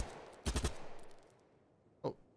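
An AK rifle fires in the BattleBit Remastered video game: a quick burst of several shots echoes away, then a single shot follows after a pause. Both are faint and heard alone.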